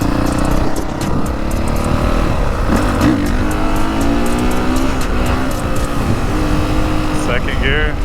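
A motorcycle engine revs and climbs through the gears, recorded close from a helmet chin mount, its tone rising in steps with shifts between under rushing wind, and someone speaks briefly over it.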